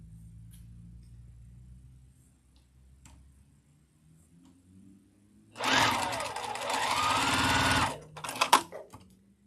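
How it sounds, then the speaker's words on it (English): A home sewing machine stitching fabric pieces runs in one steady loud burst of rapid mechanical whirring for a couple of seconds, followed by a few short clicks and taps, after quiet room tone. "Let's just sew the other one since we're already here."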